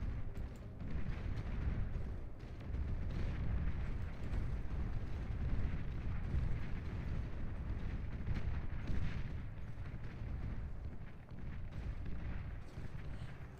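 Riot tanks firing in the real-time strategy video game Beyond All Reason, a continuous low rumble of booming shots and explosions from a battle, dense and steady throughout.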